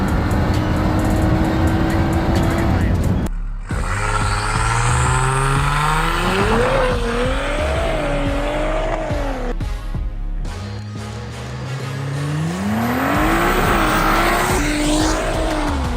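A 750 hp Audi SUV roars hard in a drag race, engine revving through rising gear pulls with brief shift breaks, loud and close, tires briefly squealing.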